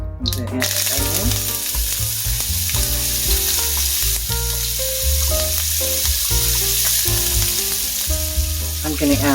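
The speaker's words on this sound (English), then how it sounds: "I'm going to add onion." Chopped onion hits hot peanut oil in a flat pot for fried rice, giving a loud, steady sizzle and crackle that runs unbroken from the start, with no talking over it.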